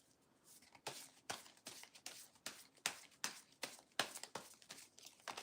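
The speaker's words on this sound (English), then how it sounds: "I'm going to shuffle because when they fall out like that, I like to shuffle again" A deck of tarot cards is shuffled by hand in a steady series of quick riffling bursts, about two per second, close up and fairly quiet with no talking.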